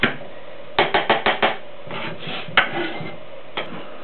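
Knife chopping an onion on a board in a home kitchen, with a quick burst of five close, sharp cuts followed by scraping and a few scattered single chops, no talking.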